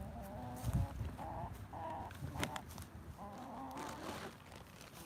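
Several chickens at a barn cluck in short repeated bursts nearby, with scattered rustling and faint background noise throughout.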